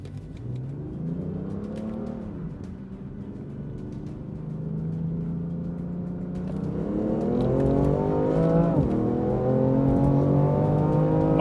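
A BMW F80 M3 Competition with DCT, a Camaro LT1 with 10-speed automatic and a Challenger 392 T/A with 8-speed automatic accelerating hard in a roll race, engine tones rising through a gearshift and climbing louder to the end, with no voices.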